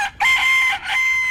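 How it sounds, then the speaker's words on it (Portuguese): A rooster crows loudly and close by in one long, strained call that breaks briefly before trailing on. The call stands alone, with no talk over it. "Eita, rapaz, o galo cantando."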